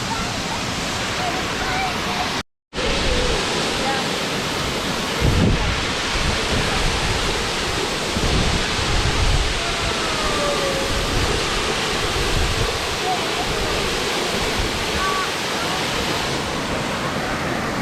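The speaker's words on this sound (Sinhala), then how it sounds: "මේක තමයි ඉතින් අර පල්ලේ වල ඇල්ල කියන්නේ" Pallewala waterfall, a cascade feeding a natural pool near Ravana Adventure Park, roars in a steady, dense wash of falling water, interrupted by one brief dropout near the start.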